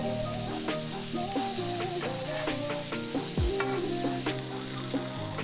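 A patty melt, freshly flipped in a hot pan, sizzles loudly and steadily up close. A single scrape of a spatula sounds partway through, with no talking.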